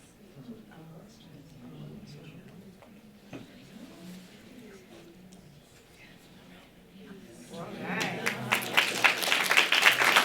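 A library audience breaks into applause for a young girl, the clapping rising near the end after a stretch of quieter room sound and talk.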